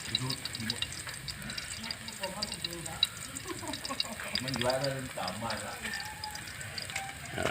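Garlic sizzling and crackling in hot oil in a wok, a steady frying hiss with scraping, under someone talking close by.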